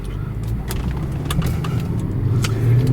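A 2009 Mercedes-Benz E63 AMG pulls away in sport mode. Its engine gives a steady, close rumble that swells slightly as the car gets moving.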